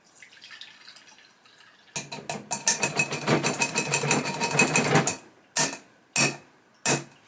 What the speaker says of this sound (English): let's go ahead and pour this mixture through.